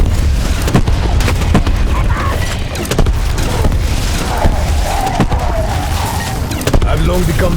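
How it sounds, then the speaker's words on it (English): Booming explosions and bursts of gunfire-like blasts erupt repeatedly in a hardcore round of the video game Voyage of Despair, loud and close with sharp impacts and rumbling layered between them. "I've long become numb to the sound of explosions."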